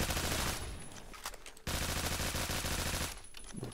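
Gunfire in the Roblox game Phantom Forces: loud rapid automatic bursts fill nearly the whole stretch, broken by a brief lull midway before the shooting resumes.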